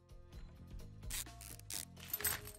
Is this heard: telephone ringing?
no